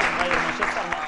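A studio audience at a Saudi sports quiz show applauds, a dense burst of clapping that stays fairly even across a brief moment.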